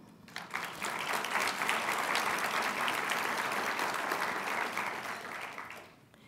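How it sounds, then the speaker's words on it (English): Audience at a press club hall of fame ceremony breaks into applause, a steady, even wash of clapping that swells quickly, holds for several seconds, then tapers off. "Let's applaud that."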